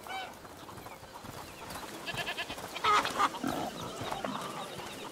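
A goat in the video game A Plague Tale: Requiem bleats several times in wavering, nasal cries, louder toward the middle, over a soft background hiss.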